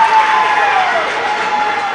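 Crowd roars in a school gym after a rally point in a high school girls' volleyball match, a loud, steady wash of cheering that holds for two seconds with a faint squeak or whistle near the start.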